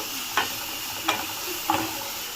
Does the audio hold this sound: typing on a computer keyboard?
no